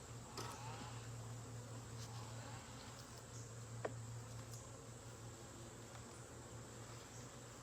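Honeybees disturbed at an opened beehive drone in a low, steady buzz close by, with a few sharper clicks and bumps over the hum.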